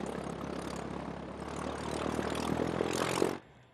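A Cessna propeller plane on the airport surface near runway 26 left, its engine drone loud and steady for over three seconds, swelling slightly before cutting off abruptly, with no voices.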